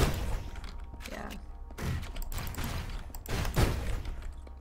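Gunfire in the game Hyper Light Drifter: a few muffled, thumping shots and impacts in quick bursts over a low rumble, with a voice talking faintly underneath.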